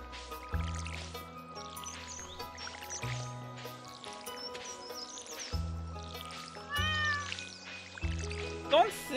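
A cat in the video game Stardew Valley meowing several times, bright and close, over steady game music with a plucked bass line and someone talking between the calls.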